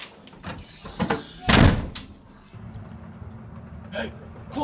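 A door is pushed shut with one loud, close bang after some scuffling handling, amid a shelter-in-place emergency scene, followed by lower room rumble and a soft later knock.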